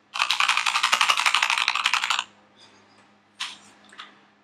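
Fast, steady typing on a Keychron K2 mechanical keyboard with red switches, a dense run of close, crisp keystrokes for about two seconds, then a pause and a few scattered clacks.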